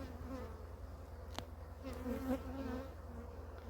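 Honeybees buzz in a steady, close drone while hive frames are shaken during a swarming-season inspection. The note holds low and continuous, with a brief knock partway through and a slight swell near the end.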